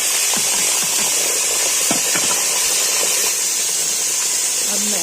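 Chopped tomatoes tipped into a hot frying pan over frying onions give a steady, close, loud hiss with scattered crackles and pops running throughout.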